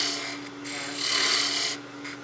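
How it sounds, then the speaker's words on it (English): A spindle gouge cuts wood on a lathe while turning a Christmas gnome, giving a steady close rasping scrape that swells and eases over about two seconds, with no talk. "I'm actually going to use my spindle gouge to remove some of this waste material here"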